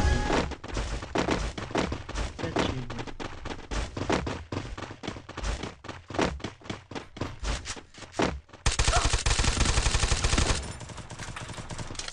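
Rapid bursts of video game gunfire crackle in quick succession, followed by a sustained loud automatic stream, then a quieter rumbling tail.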